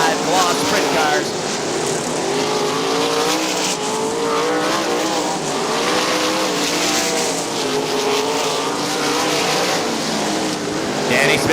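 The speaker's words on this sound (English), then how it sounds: "Those are your top 5 Gloss sprint cars." Sprint cars roar continuously around the dirt oval at Winston Motor Speedway in a 2001 Great Lakes Outlaw Sprint Series race, engines loud and layered, with a commentator talking over the din throughout.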